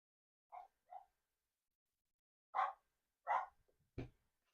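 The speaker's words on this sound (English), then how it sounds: "Mom's dog's barking now, as Piper is." A dog gives five separate sharp barks indoors, two small ones followed by three louder ones spaced about a second apart, with silence between them.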